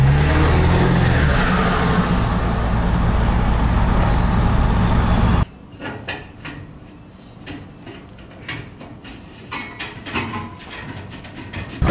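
A 7.3 L Powerstroke diesel truck fitted with a 10-inch exhaust tip pulls hard up a hill, its turbo whistle rising over a loud roaring engine for about five seconds before the sound cuts to quieter road and cabin noise.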